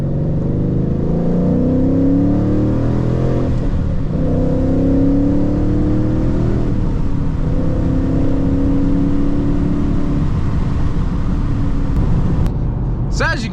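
A Ford Mustang S197 with an MT82 manual gearbox pulls hard up a highway on-ramp, its engine rising in pitch through the revs with brief dips at each gearshift, loud and close inside the cabin.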